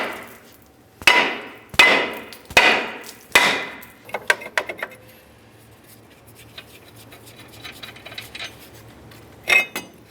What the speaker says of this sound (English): Now let's use our hammer, give this a bonk to break it free.